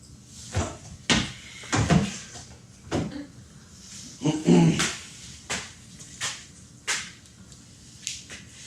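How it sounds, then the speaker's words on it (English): A door is opened indoors with a series of sharp knocks and clunks spread across several seconds, close and fairly loud, with brief muffled voices between them. "Brian, open the door, please."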